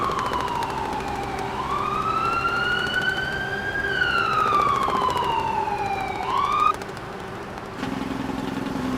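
A toy airport ambulance gives a loud electronic siren: one long smooth wail that dips, rises and falls again, then cuts off sharply near the end and leaves a low steady hum.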